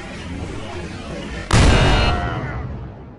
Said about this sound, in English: Orange team fired the missile.